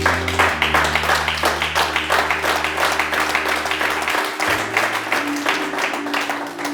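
A church congregation claps steadily and loudly in an even rhythm, with a sustained tone in the background throughout.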